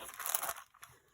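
Tim Holtz scissors snipping through paper in a crafting session, a dense crinkly cut lasting about half a second, close and fairly loud, then a couple of fainter snips.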